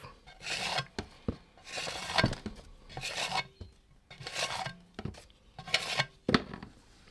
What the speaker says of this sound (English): grab my little scraper here, scrape some of this excess paint off